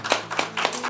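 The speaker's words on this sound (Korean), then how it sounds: "박수 부탁드리겠습니다." Brief, close hand claps of applause at a newspaper founding ceremony, a few quick irregular claps over a faint steady hum, with no talk.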